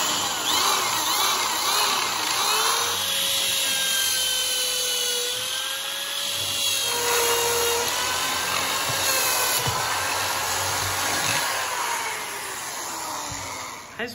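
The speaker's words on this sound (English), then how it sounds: "the holes that you need to drill in your guitar body" A steady high-pitched whine of a power drill boring holes into a wooden electric guitar body, running continuously with slight pitch shifts as it works, close and loud.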